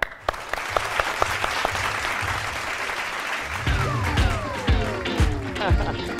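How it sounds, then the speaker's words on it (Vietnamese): A studio audience claps to welcome the bride's family on a television dating show, with scattered claps building into steady applause while music plays underneath and people talk over it. "Chúng ta cùng dành một tràng vỗ tay để chào đón hội đồng người thân nhà gái."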